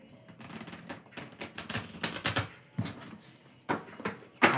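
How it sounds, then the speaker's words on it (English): A deck of playing cards being shuffled, giving a run of crisp, close riffling and flapping bursts in uneven clusters, loudest near the end, with no talking. "Let's give it a good shuffle."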